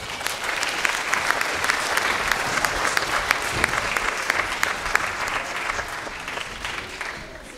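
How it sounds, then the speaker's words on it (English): An audience at the Igloo Church Christmas concert claps steadily and loudly for several seconds, a dense sustained round of applause that tapers slightly toward the end. "Please give her a big round of applause."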